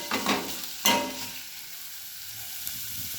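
Vegetables fry in a little oil for a bread roll filling, a steady close sizzle with a couple of louder stirring scrapes near the start, no talking.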